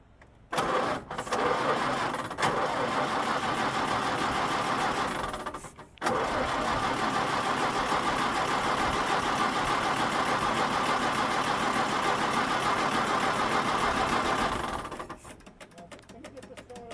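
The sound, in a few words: Roadster car engine cranking over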